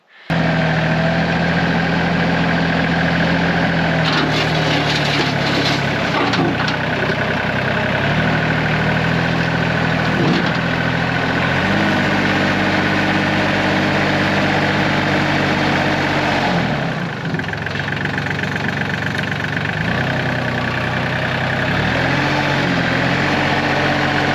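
A tractor engine runs steadily at a rural stone house renovation site in Portugal, a loud, close diesel drone with the revs rising and falling as it pushes an object aside, no talk over it.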